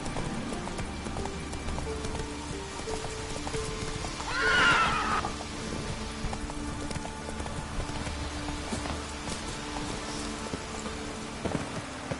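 A horse in The Witcher 3 video game gives one loud whinny midway, with steady galloping hoofbeats and a rain-like hiss running underneath throughout.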